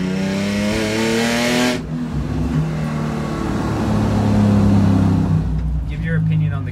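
A 2001 BMW E46 fitted with a new Stage 2 clutch and shifter accelerates, its engine droning and rising in pitch through the gears, loud and close from inside the cabin, with a person talking over it.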